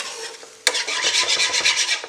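A wire whisk stirs veloute sauce in a pan over medium heat, giving a steady scraping, rasping swirl that starts abruptly and continues in quick even strokes, close and fairly loud with no talking.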